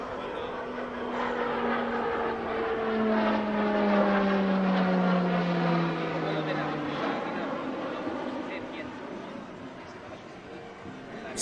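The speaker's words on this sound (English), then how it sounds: "The Pilatus PC-21, known in Spain as the E-27, will be the next aircraft type to equip the Patria Aguila" A Pilatus PC-21 turboprop trainer flying past at an air show, its propeller drone steady and loud with a slowly falling pitch as it passes, while a commentator talks over it.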